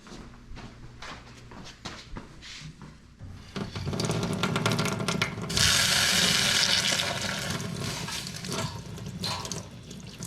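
A hot welded metal part is plunged into water in a garage sink, running water and a rising hiss building and sustaining at moderate loudness after a few seconds of quieter handling sounds.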